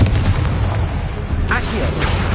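Explosive blasts from a Confringo spell in Hogwarts Legacy on PS5, heavy booming bursts with a loud low rumble and sharp crackling impacts in quick succession.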